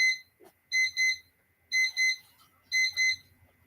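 A timer alarm goes off in three bursts, each a pair of quick electronic beeps with short pauses between the bursts, fairly faint and heard on its own.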